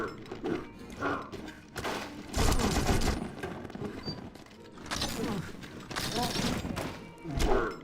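Self-damaging rocket launcher firing in the video game You Are Empty, with heavy blasts bursting out twice amid busy, chaotic combat noise.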